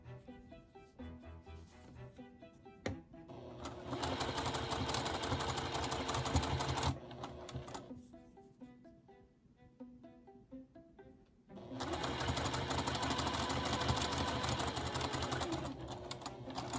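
Sewing machine stitching quilt fabric for a butterfly log cabin block, running in two long loud bursts with a quieter slow stretch between, its needle chatter steady and close.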